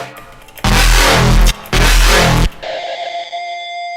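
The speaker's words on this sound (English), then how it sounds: "what you're hearing is the reverb going into the distortion again." Reverb tail fed into distortion: two loud, dense, gritty roaring bursts about a second each, then a thinner buzzing distorted tone that hangs on and fades, with no talking.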